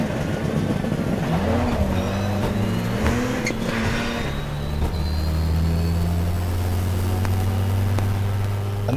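A 600bhp four-wheel-drive rallycross Citroen DS3 accelerates hard, its loud engine note climbing in pitch and dropping back at each of several quick gear changes before settling into a steady high drone.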